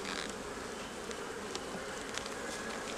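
Honey bees swarm around hive frames during a fall hive inspection, making a dense, continuous close-up buzz with individual bees droning past the microphone, and no voices.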